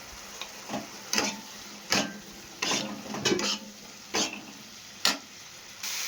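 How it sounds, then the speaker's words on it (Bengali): Spice masala with chilli powder, salt and turmeric being stir-fried in a pan: a soft continuous sizzle broken by repeated scraping strokes of a spatula at a steady, roughly one-per-second rhythm, close and alone. "মশলাটা কষানো হয়ে গেছে"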